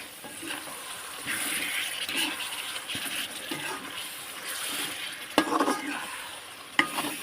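Biryani ingredients sauté in a pan, with soft continuous sizzling under stirring and scraping, plus a couple of sharp clinks of a spoon against the pan.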